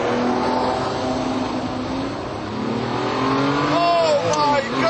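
A Ferrari F50 engine revs hard while accelerating, a rising, loud mechanical howl that climbs in pitch toward the end, with someone talking over it.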